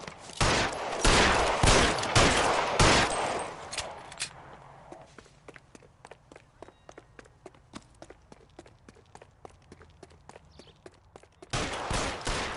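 Gunfire in L.A. Noire, a dense volley of loud shots for several seconds, then sparse scattered cracks and footsteps, before another heavy burst of shooting at the end.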